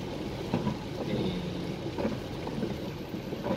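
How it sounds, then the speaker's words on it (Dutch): Steady rain patters continuously on a car while driving toward the motorway, a dense, even wash of drops with occasional louder splashes, moderately close and with no voices. "En nu gaat het ook nog eens harder regenen."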